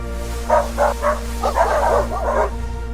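Dogs bark in a quick series of short woofs and yips over a steady low hum, several barks bunched close together and moderately loud.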